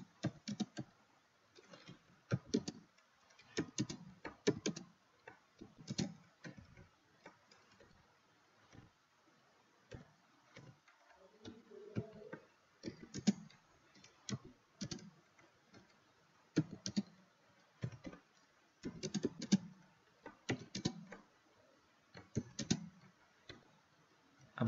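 A computer keyboard clicks in irregular close bursts as Urdu is typed in Microsoft Word, with quiet pauses between runs of keystrokes.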